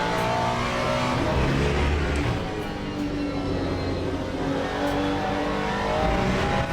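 Interior race car engine from a racing video game, a steady loud drone with shifting harmonics throughout, no gaps and no voices.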